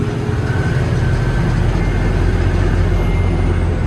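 An M1085 five-ton military truck's engine roars at wide open throttle in sixth gear, a loud, steady, close drone heard from inside the cab.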